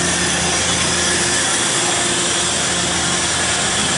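Royal Master TG-12x4 centerless grinder with an automatic bar feeder running, a steady, loud broadband machine whir with a constant grinding hiss and no break, no talk over it.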